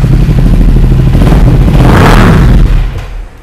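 A loud sport motorcycle engine with an Akrapovic exhaust revs hard close by, its deep roar swelling to a peak and then dropping away as the throttle is released.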